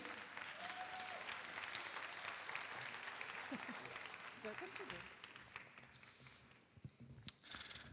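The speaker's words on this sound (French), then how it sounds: "on peut l'applaudir." A folklore festival crowd in Brussels applauds a regional minister called onto the stage, a faint, distant, sustained clapping that tapers off as a few voices and stray sounds emerge near the end.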